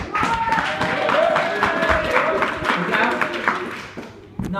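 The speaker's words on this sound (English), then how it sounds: "I want to hear a clap. That's like a football applause clap." An audience claps and cheers in a hall, a dense sustained burst of applause with scattered whoops, loud and close, then tapering near the end.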